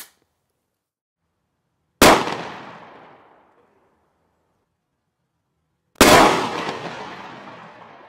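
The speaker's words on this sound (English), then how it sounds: "a short-barreled riot gun with standard commercial number 8 shot like you'd buy at Walmart to go dove hunting" Two loud, sharp shotgun blasts from a short-barreled riot gun firing number 8 birdshot, spaced about four seconds apart, each with a long decaying echo tail and silence between.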